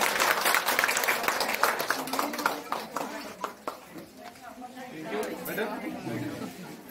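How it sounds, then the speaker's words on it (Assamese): Crowd applause at a salad recipe competition during a nutrition-month program, with loud clapping that tapers off, while people chatter and talk over it. "জোৰ से তালি বুজাই দিও সবে"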